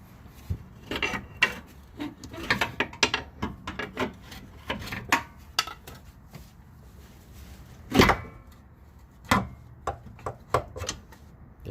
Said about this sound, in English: I'm just gonna keep doing that and try to pry it out